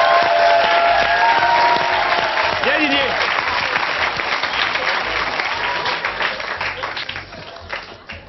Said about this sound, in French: Alors on l'applaudit s'il vous plaît